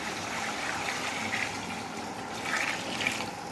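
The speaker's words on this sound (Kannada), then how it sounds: "ಇನ್ನೊಂದು ಪಾತ್ರೆ ನೀರು ಹಾಕ್ಕೊತಿದ್ದೇನೆ" Water pours steadily into a cooking pot for ghee rice with a soft, continuous splashing and trickling, fairly quiet and close.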